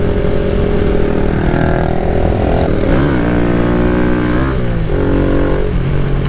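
Kawasaki Z125 Pro mini motorcycles running before a group street ride alongside Groms and a Monkey, a loud, continuous buzzing engine drone with small rises and falls in pitch as throttle changes, close by.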